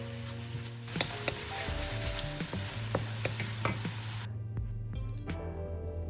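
Tofu and vegetables stir-fried in a pan with sake, soy sauce, salt and pepper, giving a steady close sizzle with scraping and clacking of a utensil stirring through the food.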